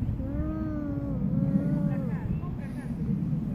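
A small child imitates a car with a rising and falling voiced 'vroom', several wavering tones over about two seconds against steady low background noise.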